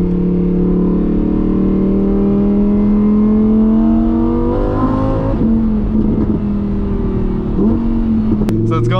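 Sports car accelerating hard out of a corner, a loud rising engine drone that climbs steadily, drops briefly at a gear change and climbs again, heard from the cabin without talk.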